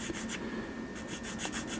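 Medium grit sanding stick rubbed over a small photo-etch part on a Nissan GTR R35 scale model kit, giving quiet, rhythmic short scraping strokes, close and faint, alone with no voices.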